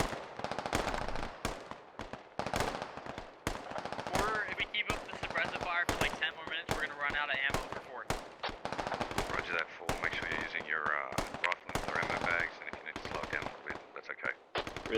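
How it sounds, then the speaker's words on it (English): Machine-gun fire in a military video game: dense, continuous bursts of rapid automatic gunfire, loud and steady across the whole stretch, with faint voices and radio chatter mixed underneath. "Listen to that fire as these guys start to pull back."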